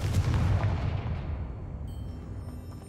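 A Confringo blasting spell cast in the Hogwarts Legacy video game bursts out as a loud, dense booming blast that rolls away into a fading rumble over about three seconds, with no talking.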